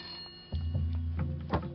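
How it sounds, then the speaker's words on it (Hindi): A telephone rings in a short, insistent burst, faintly at first and then fuller, in a quiet indoor room. "विधायक जी का फोन है।"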